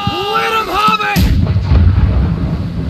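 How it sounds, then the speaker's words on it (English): Ship cannons fire in the naval combat game Blackwake, a loud booming blast followed by a rumbling roar, preceded by a shouting voice. "Fire! I'll blow you to pieces."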